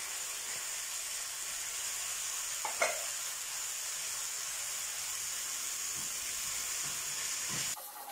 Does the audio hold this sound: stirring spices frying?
yes